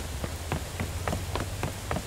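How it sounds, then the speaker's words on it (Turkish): Heavy rain in the Mafia 2 Definitive Edition game: a steady wash of downpour with a low rumble, and sharp taps recurring about every quarter second. "Bayağı sağlam bir yağ yağmur yağışı var"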